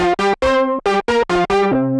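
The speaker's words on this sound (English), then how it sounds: "another effect that the VoiceLive 3 has is the octaver." A Behringer Model D analog synth played through a TC Helicon VoiceLive 3 octaver effect sounds out a run of loud, thick, buzzy notes, eight short stabs in quick rhythm with a doubled, wide low end.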